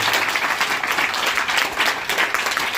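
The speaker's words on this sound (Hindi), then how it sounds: "इसके लिए बहुत अच्छी ताली बजनी चाहिए" Audience at a primary school summer camp opening event claps in sustained, dense applause, loud and close throughout with no break.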